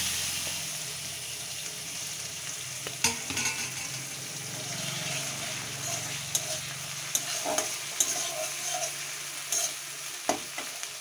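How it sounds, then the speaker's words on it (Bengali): Prawns coated in salt and turmeric frying in hot oil in a pan, a steady close sizzle with occasional stirring clinks and scrapes, no voices. "চিংড়ি মাছটা নুন হলুদ মাখানো হালকা করে আমি ভেজে নিচ্ছি।"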